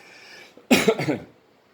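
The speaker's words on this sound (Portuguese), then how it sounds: "Deixa eu dar aqui uma pigarreada, uma aliviada na goela, que a goela vai secando" A man clears his throat with a short burst of rough, raspy coughing, close and loud, after a moment of quiet room tone and then fading back to silence.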